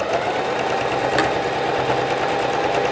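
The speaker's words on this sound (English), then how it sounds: "just do the same process of swiveling the needle in place, lifting up the foot, and then turning the corner and continuing to sew a straight line" A home sewing machine stitches a straight seam in fabric for a self-drafted top, giving a steady, rapid mechanical whirring chatter, close and continuous.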